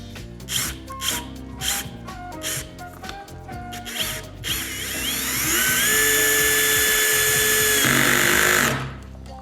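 BAHCO compact drill/driver sets a screw: short bursts of whirring first, then one long steady high-pitched whine of the motor driving in, ending abruptly, close and loud with no talk.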